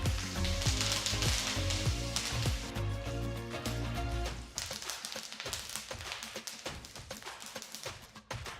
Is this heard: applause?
no